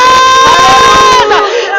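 A worship congregation lets out a loud, sustained cheer and shouting, dense crowd voices over ringing sustained tones, cutting off abruptly near the end.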